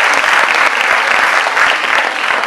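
A burst of loud, dense applause for two judges at the opening of a dance academy event, steady crowd clapping filling the whole moment with no voices over it.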